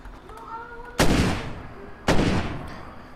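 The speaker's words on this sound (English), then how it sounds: "Samantha, you and that shotgun." Two loud, sharp shotgun blasts about a second apart in the zombie survival game State of Decay: Year One, each with a booming decay over faint in-game ambience.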